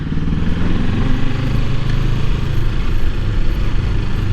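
A motorcycle rides past a shopping mall, its engine a steady, loud, close rumble with a dense low throb and some clatter, no pauses, and no voices over it.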